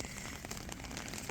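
Rain falls steadily outdoors at night during frog hunting, a soft continuous patter of drops on surfaces with faint scattered taps.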